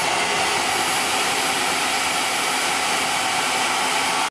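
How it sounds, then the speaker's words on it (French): A robot vacuum self-cleans its spinning brushes with water and cleaning product, giving a steady, loud broadband whir and rush that holds unchanged for several seconds, with no voices. "l'aspirateur va prendre de l'eau et du produit juste derrière pour nettoyer les brosses"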